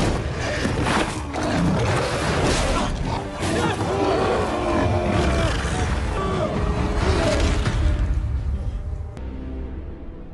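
A lion roars loudly and repeatedly, deep and rumbling, with grunting growls between roars before cutting off abruptly.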